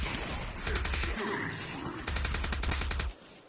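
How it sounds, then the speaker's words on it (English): Two rapid bursts of suppressed M4 rifle fire from the VR shooter Aim XR, close and loud with clattering shots, then a quick drop to quiet. "I'm almost always using my favorite weapon from CS, which is silenced M4 rifle."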